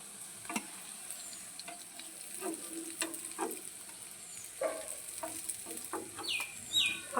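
Jackfruit seeds fry in a pan for a vegetarian curry, giving a quiet, low sizzle with scattered taps and scrapes of stirring.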